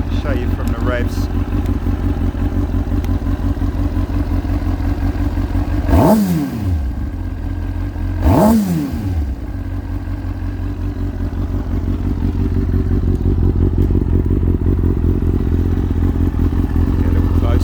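A Kawasaki ZX6R 636cc motorcycle engine, not yet fully warm, idles with a steady rasping throb and gets two quick sharp revs up toward 8,000-9,000 rpm, close up, with talk heard over it.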